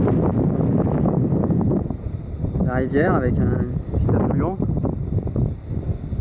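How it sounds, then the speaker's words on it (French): Wind blows and buffets the microphone with a rough, rumbling noise on the dry, lunar-looking Pic du Cintre, while someone speaks briefly in French over it. "Pas mal de vent là. Ça souffle bien."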